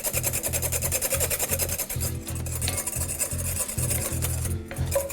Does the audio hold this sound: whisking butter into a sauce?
yes